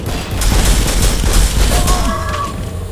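Rapid bursts of pulse rifle fire in the Turok video game, loud and close, a dense rattling fusillade that holds for about two seconds before tapering off.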